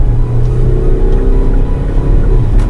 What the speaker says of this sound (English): if we check out accelerating or overtaking, let's switch into the sport mode and let's check it out.